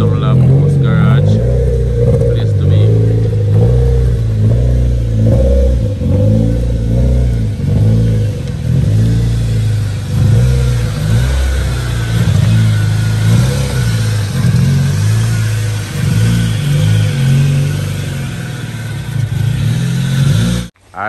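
Car engine revving repeatedly as it pulls out of a custom workshop garage, loud nearby blips rising and falling over about twenty seconds, with people talking now and then over the noise.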